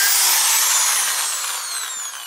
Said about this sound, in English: Now we're gonna take a drill and do 4 holes